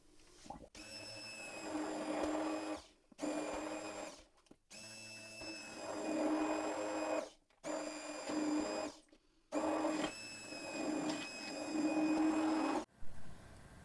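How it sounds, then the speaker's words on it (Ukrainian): A blender purees soft cooked apples and strawberries for a fruit kissel, whirring loudly in several bursts separated by short pauses. "тепер перебиваємо блендером"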